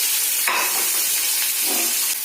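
Onions, green chillies and curry leaves fry in a pan over mustard seeds, giving a steady close sizzle with a brief stir or scrape partway through, and no talking.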